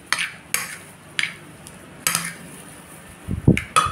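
A utensil stirs chopped vegetables with green onions for veggie bread toast, making sharp clinks and scrapes against a bowl at irregular intervals, close and clear, with a heavier knock near the end.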